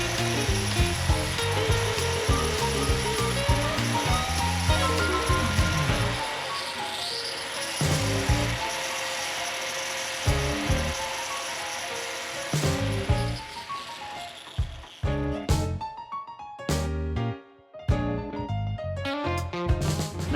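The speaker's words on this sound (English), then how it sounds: "Now we're gonna just grind it until it fits nicely from top to bottom in the hole we just made" A power grinder works a square wooden peg down to fit a hole during boat woodwork, giving loud rhythmic rasping and whirring bursts that change pitch as the tool bites and eases off, close and without talk.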